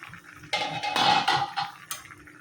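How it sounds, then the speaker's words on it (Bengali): Metallic clatter and scraping from a pot of curry as fish goes in, with a few bright clinks and a bursting sizzle-like rush in the middle, close and fairly loud. "এই যে আমি মাছটা কিন্তু দিয়ে দিচ্ছি"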